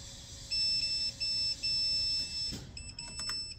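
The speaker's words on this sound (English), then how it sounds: "I just go across each, make sure I hear the beep" A multimeter continuity tester beeps while the probes are run across breaker wire pairs at micro inverter strings: a steady high tone in three or four sustained pulses, then a scrape and a few shorter, faster beeps.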